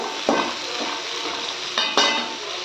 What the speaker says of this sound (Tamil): கேப்சிகம் போட்டு நல்லா கலந்து விடுங்க நெய்யில்